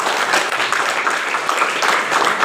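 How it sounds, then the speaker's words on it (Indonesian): Lively applause from a crowd of students at a university orientation event, a dense continuous wash of clapping, loud and steady throughout. "Boleh tepuk tangannya yang meriah"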